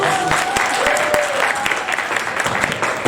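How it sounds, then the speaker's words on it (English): Applause for a schoolchild at a book publishing event, a loud, lively crowd clapping continuously with a few brief voices and whoops mixed in. "So let's get a round of applause."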